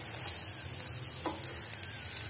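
An egg paratha fries on a hot pan with a constant soft sizzle and faint crackling, close and even, with one small scrape midway and no voices.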